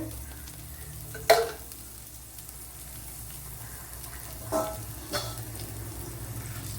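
Fenugreek seeds dropped into hot oil for a Kerala mackerel fish curry, giving a steady low sizzle with a couple of brief sharper crackles and stirring scrapes, close and alone with no talking.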